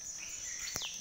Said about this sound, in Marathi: बघा किती गोड आवाज येतोय पक्ष्यांचा।